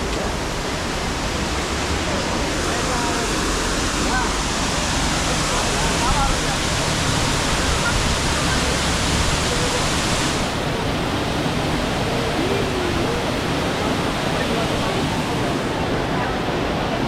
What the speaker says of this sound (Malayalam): വെള്ളച്ചാട്ടം എങ്ങനെയുണ്ട്?